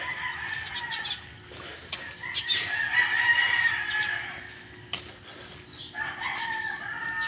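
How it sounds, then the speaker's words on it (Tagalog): Several roosters crow from a short distance at a game fowl farm on a morning walk, overlapping calls rising and falling amid background clucking and faint insect buzz. "may farm dito ng manok"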